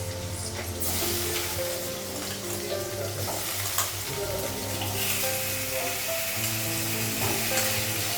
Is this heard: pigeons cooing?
no